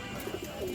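A Rampuri Pakistani high-flyer male pigeon gives a couple of brief, soft coo notes close by in a short burst, with no one talking.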